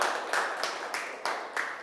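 A lecture audience claps to welcome a visiting professor, a steady run of evenly spaced, crisp claps from a modest group, fairly close and without talk.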